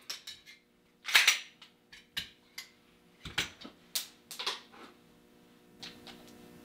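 A pistol is handled close up while a magazine is inserted, pressed down and seated, giving a string of sharp metallic clicks and snaps at irregular intervals with quiet gaps between.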